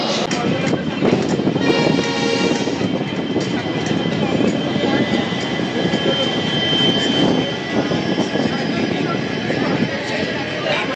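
A departing train rumbles steadily nearby, a loud continuous roar of wheels and engine with a faint whine throughout.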